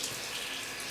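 Water runs steadily from a hose nozzle held up high while a horse is bathed, a close, faint, even hiss for under a second.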